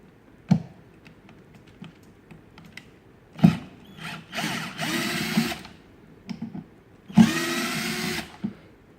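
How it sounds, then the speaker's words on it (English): Two screws are backed out of the metal latch plate on a Taiga 88 QT cooler with a Phillips screwdriver. Close, separate bursts of whirring and grinding come in two main runs, mixed with clicks and handling taps. "remove the two screws that hold the plate in place"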